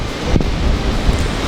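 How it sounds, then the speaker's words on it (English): Strong, gusty wind buffets the microphone outdoors beside a Char-Griller Grand Champ offset smoker, a steady low roar with a heavier blast near the start and another swell toward the end, with no talking. "Super windy out here."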